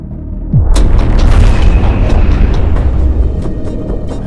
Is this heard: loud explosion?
yes